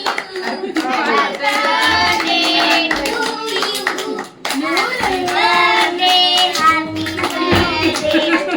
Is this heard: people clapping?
yes